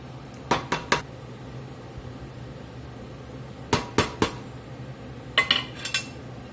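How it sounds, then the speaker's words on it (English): A spoon knocks and scrapes against a cooking pot of broth with flour at the bottom, coming in three short clusters of sharp metallic clinks separated by quiet stretches. "Make sure we get all of that flour off the bottom of this pot while it's coming up to a simmer."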